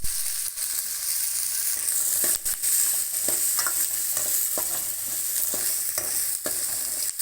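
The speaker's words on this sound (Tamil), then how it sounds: "இப்போ பூண்டு இஞ்சி வெங்காயம் போட்டு இப்போ வணக்கிறோம் நல்லா வணக்கி எடுத்துக்கிறோம்" Garlic, ginger and onion sauté in a hot pan for a country chicken curry, with a constant bright sizzle and occasional scraping stirs of a utensil against the pan.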